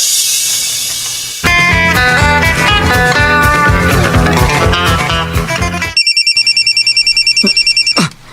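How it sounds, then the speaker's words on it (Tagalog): A phone rings with an incoming call. A loud ringtone melody plays first, then a rapid pulsing electronic ring, close and alone. "Yes, si Rupa ni nanawag"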